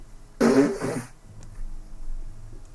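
A single short sneeze, loud and close, followed by quiet room ambience during a community Aegis game session.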